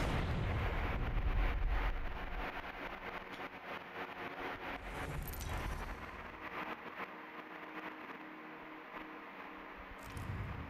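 Artillery strike in Apex Legends: a series of deep booming impacts and crackling blasts rolls on continuously, loud at first and then settling into sustained rumbling debris, with no voices.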